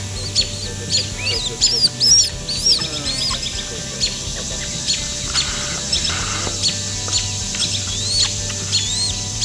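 Several birds chirp, squawk and whistle in bursts, some close and sharp, others fainter, over a low steady hum with occasional muffled voices.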